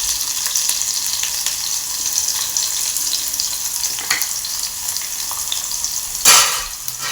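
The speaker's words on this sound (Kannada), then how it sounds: "ಒಂದು ಗಡ್ಡೆಯಷ್ಟು ಬೆಳ್ಳುಳ್ಳಿ ಜಜ್ಜಿ ಇಟ್ಕೊಂಡಿದ್ದೀನಿ, ಅದನ್ನು ಹಾಕ್ತಾಯಿದ್ದೀನಿ" Crushed garlic, about one whole bulb's worth, drops into hot oil in a frying pan and sizzles steadily, with a louder burst of crackling near the end as it is stirred; no one speaks.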